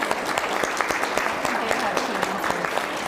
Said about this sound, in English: Let's give Einstein's light bulbs a huge applause.